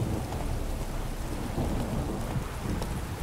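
Heavy thunderstorm rain in Witcher 3, a dense, steady roar of downpour with low rumbling underneath, continuous and fairly loud with no voices.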